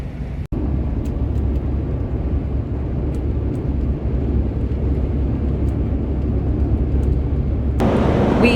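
A car drives along a road through Colorado, with a steady, loud interior road and engine rumble running throughout and no talking.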